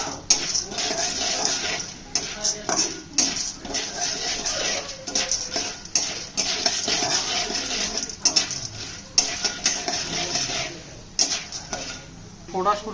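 Popcorn cooks in oil in a pan while a metal utensil scrapes and clatters against it and the oil sizzles softly, with irregular knocks and stirring throughout.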